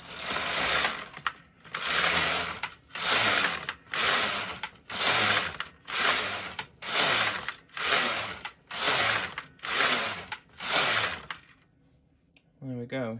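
A Silver Reed LK140/LK150 knitting machine with an FC6 Fair Isle carriage knitting rows: about ten loud, even, ratcheting mechanical sweeps, each around a second long, followed by a quiet pause with a faint click.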